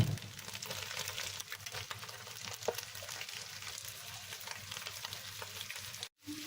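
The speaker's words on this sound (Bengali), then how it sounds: "এখন আমি ভাজিটা ভালোভাবে বাগারে দিয়ে এখন উল্টিয়ে পাল্টিয়ে ভাজিটা আমি রেডি করে নিচ্ছি।" Snake gourd and scrambled egg bhaji sizzles steadily in a hot pan while a spatula stirs and turns it, with soft scraping scattered through a continuous close frying hiss.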